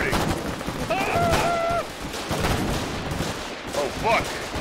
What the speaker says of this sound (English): That's a lot of fucking shooting.